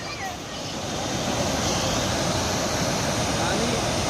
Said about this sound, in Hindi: बहुत ही बेहतरीन यहाँ झरना गिर रहा है